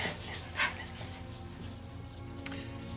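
A dog pants and whimpers softly at close range, with quick breathy bursts and a few sharper yips early on over a low steady background.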